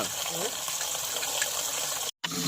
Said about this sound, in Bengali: এরপর আমাদের জল ভরা হচ্ছে দেখতে পাচ্ছ